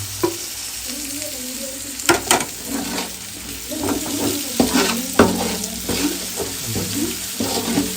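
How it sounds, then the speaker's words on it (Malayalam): Onions with freshly added tomatoes fry in a pan, a constant sizzle broken by repeated scraping strokes and clatter as a spoon stirs them, close and fairly loud. "ഏകദേശം ഉള്ളി വാടിയിട്ടുണ്ട് പെട്ടെന്ന് തന്നെ തക്കാളി ഇട്ട് കൊടുക്കാം"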